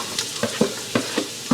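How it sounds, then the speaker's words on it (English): Onions, bell peppers, fennel bulb and garlic hit a hot pan, giving a steady close sizzle broken by several sharp clatters as the vegetables are stirred. "I'm going to drop this in there, and it'll start sizzling right away."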